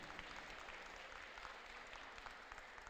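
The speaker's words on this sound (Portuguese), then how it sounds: "vai aplaudir ele" Church congregation applauding during a Portuguese-language sermon, a steady dense wash of clapping that holds evenly for the whole stretch without breaks.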